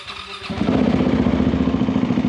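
A Kovi 450 motorcycle engine cranks and catches after a short quiet start, then settles into a loud, steady, throbbing idle close to the listener.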